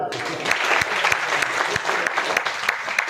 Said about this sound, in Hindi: चलिए एक बार जोरदार ताली।